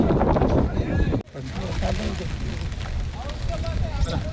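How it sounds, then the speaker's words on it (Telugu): Strong wind roars across an outdoor rally site, a heavy gusty rumble buffeting the microphone, with a sudden brief drop before it rises again and voices talking underneath. "గాలి దుందరం బాగా దూసుకొస్తుంది"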